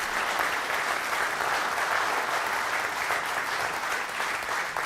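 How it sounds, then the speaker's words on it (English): Audience at a city State of the City address applauding the Glens Falls Police Department, loud, dense and sustained clapping from a large crowd with no talk over it. "a round of applause for them"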